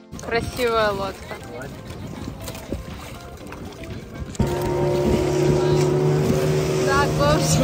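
A boat engine drones steadily off Lovina Beach, Bali, growing louder and more constant partway through, with people talking over it and wind noise.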